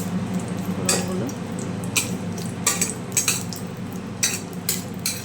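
Spices for a chutney temper in hot oil, a steady close sizzle and crackle broken by sharp clinks of a metal spoon stirring against the pan.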